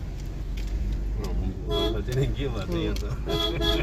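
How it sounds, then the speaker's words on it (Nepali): A car on a Darjeeling mountain road approaches and sounds its horn in several short toots and longer blasts, with engine rumble underneath and people talking nearby throughout. "यो त घनघार गाडी आउँदैछ"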